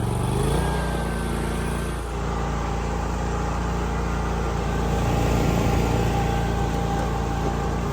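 A Scag Patriot zero-turn mower with a 61-inch deck starts just after the opening and settles into a loud, steady engine drone close by. It keeps running evenly with no voices over it.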